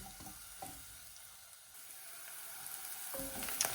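Onions frying slowly in a pan while being cooked down for a Bay of Naples tomato sauce, a steady soft sizzle running throughout with a few light stirring clicks and scrapes, no talking.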